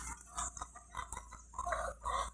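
Free-range chickens on a farm cluck in short, irregular bursts at moderate distance, with a few louder squawks near the end and no talking.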